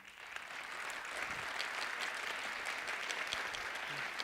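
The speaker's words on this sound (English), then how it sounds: "I invite you to give a warm round of applause for my friend Afshin." An audience applauds warmly with a dense, steady clapping that holds at an even level for the whole stretch, no voices rising above it.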